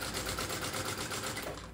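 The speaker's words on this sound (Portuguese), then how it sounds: "Vou aumentar aqui o ponto da minha máquina para ficar melhor de costurar e aí costura tudo" A domestic sewing machine, set to a longer stitch, joins fabric pieces for a crossbody bag strap with a shoulder pad, giving a fast, even, close mechanical rattle that runs briefly and slows toward the end.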